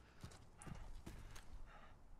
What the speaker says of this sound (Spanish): Está caminando el burro